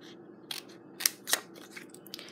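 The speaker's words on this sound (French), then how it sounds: "J'ai pris mes ciseaux et je me suis fait des petites bandes de texte." Scissors snip through paper to make small strips of text for a Stampin' Up! card, a few quiet, crisp cuts and rustles spaced unevenly over a hushed indoor background.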